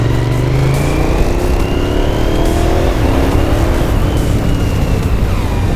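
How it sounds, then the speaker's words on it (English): Suzuki SV1000 motorcycle accelerating hard at full throttle, its V-twin engine note rising steadily and loudly up through the revs for several seconds, close and continuous with no talking. "never really done full throttle on his bike"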